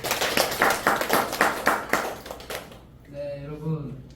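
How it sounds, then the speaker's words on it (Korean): Audience clapping at a lecture, a short burst of rhythmic hand claps that fades after a few seconds, followed by a speaker's voice. "그렇게 사시겠다는 분만 박수 한번 보내주시죠"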